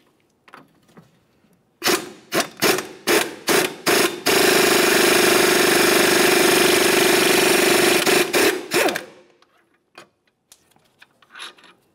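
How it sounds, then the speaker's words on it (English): A power tool loosens the lower mounting nut and bolt on the steering knuckle of a 2006-2011 Honda Civic. It fires in several loud, close bursts, then runs steadily for about four seconds before a few final short bursts. No one talks. "remove the lower mounting nut and mounting bolt"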